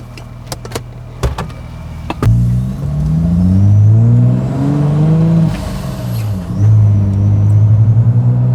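A supercharged Jeep Wrangler JKU on 37-inch tires pulls away after a few clicks and knocks, its engine droning up through rising revs, easing off, then climbing again, loud and close inside the cabin.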